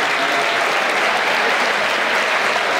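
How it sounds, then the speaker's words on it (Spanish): Dense, loud applause from an audience at a university campus festival award gala, a steady wash of many hands clapping without pause. "Igualmente un fuerte aplauso para ella."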